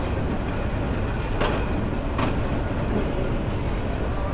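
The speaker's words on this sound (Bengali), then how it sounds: "ছেড়ে দিল এই পাঁচপিস রেলওয়ে স্টেশন থেকে।" A train pulling out of Panchpir railway station, a small rural stop with no platform, gives a steady loud rumble of wagons with a couple of brief sharp clacks, with no voices.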